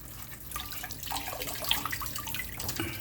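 Tap water runs steadily from a faucet while kava is prepared by hand, a continuous close splashing stream with a few small drips and no talk.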